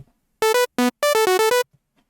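A bright, buzzy tone from the Serum software synthesizer's initial preset plays a short run of staccato notes at changing pitches, loud and dry with silence around it.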